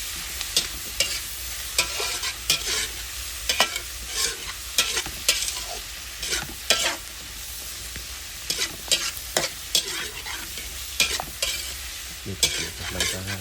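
Pork and vegetables stir-frying in sesame oil, with steady sizzling broken by repeated sharp scrapes and clacks of a utensil stirring the pan, close and clear, with no talking.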